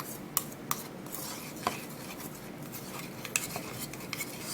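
A liquid mixture stirred with a utensil in a bowl, giving a few sharp clinks against the sides over a soft continuous swishing, fairly quiet and with no voices.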